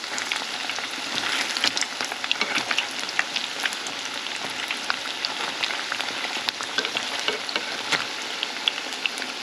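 Chicken pieces fry in hot oil on medium heat, a steady crackling sizzle with scattered sharp pops, close and continuous with no talking.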